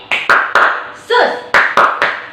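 Children clap along in a Sunday online kids' worship, sharp clustered claps in a quick rhythmic pattern, with a brief voice in between.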